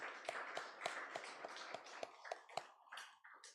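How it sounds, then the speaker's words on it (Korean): A church congregation claps to welcome a visitor, about a dozen crisp claps in a steady rhythm, close and clear, with a faint ringing tone under the beats. "박수로 환영하겠습니다."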